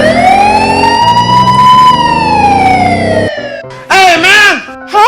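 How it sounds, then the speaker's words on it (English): A toy police car siren wails loud and close in a long rising-and-falling electronic tone, cuts off, then gives two shorter warbling bursts after a brief pause. "It's police car."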